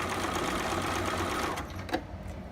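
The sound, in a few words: sewing machine zigzag stitching around fabric edge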